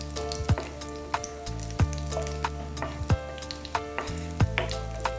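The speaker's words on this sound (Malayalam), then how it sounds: "നല്ല ഗോൾഡൻ ബ്രൗൺ ആവുന്ന വരെ കാഷ്യനട്ട് ഇളക്കിക്കൊണ്ടിരിക്കണം" Cashew nuts fry in hot oil in a pan while being stirred, making a soft sizzle broken by regular clacks of the stirring spoon against the pan. No voices are heard.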